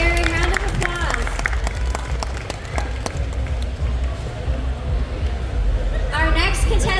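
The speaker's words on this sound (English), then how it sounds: "Round of applause." Audience applause and cheering at a pinup pageant held at a New England tattoo expo, crowd clapping with babble and chatter, strongest early then easing, with a voice near the end.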